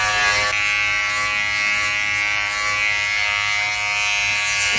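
A Philips 7000 BodyGroom electric body shaver runs steadily while trimming, a close, continuous buzzing whine that holds constant for several seconds without a break.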